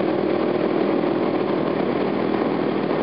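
Motorcycle engine running steadily on the road, a dense continuous drone at constant loudness with no talking over it.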